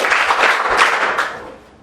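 Students in a secondary-school maths class clap their hands together in a short, loud burst of dense, even claps lasting under two seconds, then fading away, with no talking over it.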